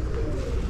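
A pigeon coos softly and close at a Punjab pigeon club competition, a brief low murmuring call set over a steady background hum.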